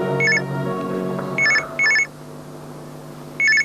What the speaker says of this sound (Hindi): ओहो, जमाल का फोन है